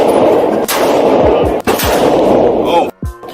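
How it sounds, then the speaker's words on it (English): Gunfire at a Texas gun range, dense and loud, with several sharp reports ringing out over continuous crackling shots and heavy, echoing background noise. "love to shoot some guns"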